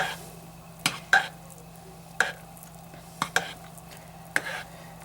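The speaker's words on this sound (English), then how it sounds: "So you just stir it until all the super fats are melted." Spoon stirring a pot of melting soap base with added super fats, a few distinct scrapes and knocks spaced about a second apart against a low steady hum, no voices.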